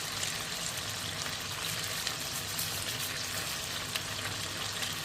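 Chicken browning in a pan with cumin and fennel, a broad steady sizzle that holds even and close for the whole stretch, with faint crackles and no voices.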